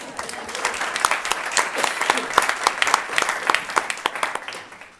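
Audience applause at a graduation-style recognition event, many distinct hand claps in a lively burst that holds for several seconds and tapers off near the end, with some voices under it.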